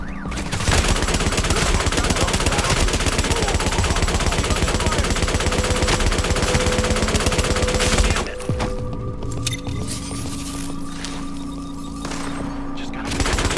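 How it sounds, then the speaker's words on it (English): Sustained automatic gunfire from a firefight in the video game The Division, dense rapid bursts filling the first eight seconds, then thinner scattered shots over lingering ambient game noise. "Laying down suppressive fire!"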